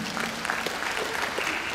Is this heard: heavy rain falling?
no